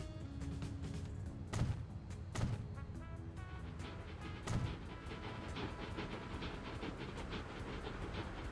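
Trains running in the video game Transport Fever 2: a steady low rumble of rolling rail cars with a few heavier thumps and clacks, fairly faint and continuous, no talking.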